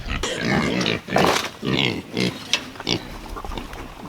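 Pigs grunting and snorting at feeding time on a farm, a string of close, loud grunts in uneven bursts with short pauses between.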